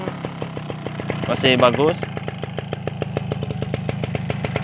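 An old Suzuki Tornado GX two-stroke motorcycle engine idling close by, a steady rapid buzzing putter with a brief rise in revs, while someone talks over it.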